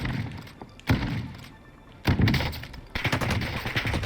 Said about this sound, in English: there's definitely a gunfight going on